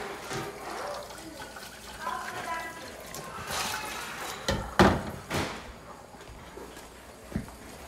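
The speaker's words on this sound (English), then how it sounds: "I like to rinse some of the milk out just to keep my water from getting too cloudy." Milking supplies are rinsed in water to wash out leftover milk, with splashing and running-water sounds, a few louder sloshes and clunks of equipment midway, and background noise throughout.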